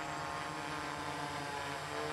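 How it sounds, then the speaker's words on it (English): A delivery drone carrying tacos makes a precision landing on ArUco marker targets. Its propellers give a steady, close, unbroken whir throughout. "And the drone is now landing."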